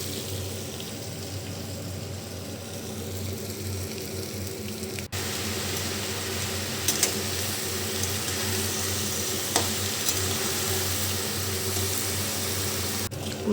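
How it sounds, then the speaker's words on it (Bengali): Malabar spinach curry cooking in a pan gives a steady, continuous sizzle and bubbling close up, with a few faint clinks and no talking. "তো দেখো, পুঁই শাকটা বসিয়ে দিয়েছি।"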